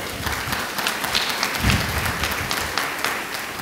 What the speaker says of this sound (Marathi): आमेन, टाळ्या वाजवा.